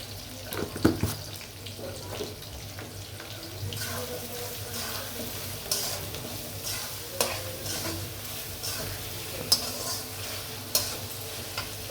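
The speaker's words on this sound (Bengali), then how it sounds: "পেস্টটি ভালো করে ভাজতে হবে" Spice paste with garam masala and salt fries in a pan for chicken roast, giving a soft steady sizzle with frequent scraping and clinking stirs of a spoon, fairly quiet and close, without talking.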